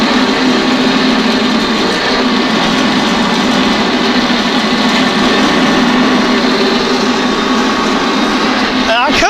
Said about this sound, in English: get this hole punched in here, this 1-inch hole, 200 RPM